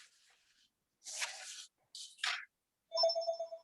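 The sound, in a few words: phone call ringing a cell phone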